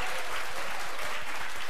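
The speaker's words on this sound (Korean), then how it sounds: "여러분 축하의 박수 한번 부탁드립니다." A studio audience at a Korean talk show applauds steadily, a dense wash of clapping that holds at an even level throughout with no voices on top.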